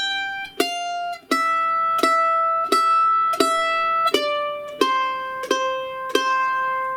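Bluegrass mandolin plays the simple melody of She'll Be Coming 'Round the Mountain, picked notes struck one by one in a steady rhythm, bright and close, with no voice.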